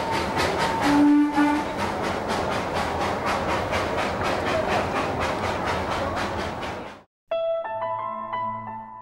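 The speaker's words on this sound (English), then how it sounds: "Plenty of sand has to be spread on the rails to ensure the wheels maintain their grip on the steep and slippery track." An Indian steam train climbing a steep, slippery mountain line, loud steady chuffing with rhythmic wheel and rail noise, a brief whistle early on, then the sound cuts abruptly to a quieter tonal passage.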